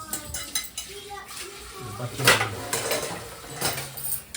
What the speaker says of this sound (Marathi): भांडी घासायचं काम चालू.